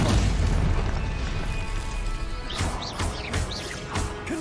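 Confringo fire-blast spell cast in the video game Hogwarts Legacy, a heavy booming explosion with crackling debris, loud and close, followed by sharp whooshing bursts and pops of further spell effects.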